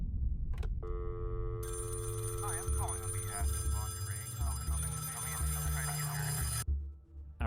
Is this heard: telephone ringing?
yes